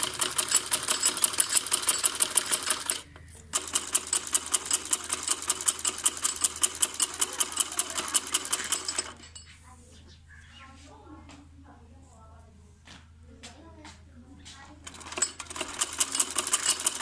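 A sewing machine runs in fast, steady bursts while double-stitching a strip onto a kameez, loud and close, with a short pause near the start and a long quiet stretch in the middle before it starts up again.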